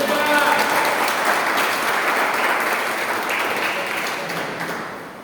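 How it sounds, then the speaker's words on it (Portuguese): A church congregation applauds loudly and steadily in a large hall, a dense wash of clapping that holds for several seconds and slowly fades. "Vocês podem aplaudir a Jesus?"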